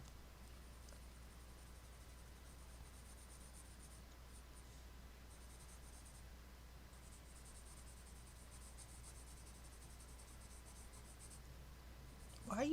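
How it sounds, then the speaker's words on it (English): A Luminance colored pencil scratches steadily across a coloring page, a faint, continuous dry scraping with small pauses, heard alone. "Why you sound so scratchy there, pencil?"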